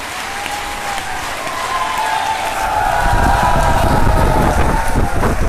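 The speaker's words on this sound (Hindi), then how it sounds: "तालियां समझी।" An audience at a Hindi poetry recital in Hathras breaks into applause. It starts thin, swells into loud, dense clapping after a couple of seconds and sustains to the end, with a held voice tone above it.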